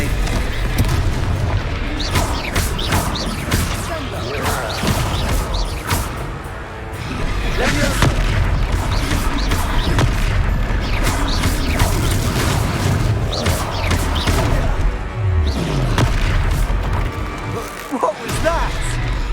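Loud, continuous explosions and crashing impacts from Confringo spells in a Hogwarts Legacy battle, booming bursts layered densely with voices talking over the fight throughout.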